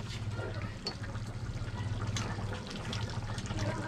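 Water poured steadily into a pot of pork, cabbage, carrot and potato stew, a continuous close trickling splash with a low hum underneath.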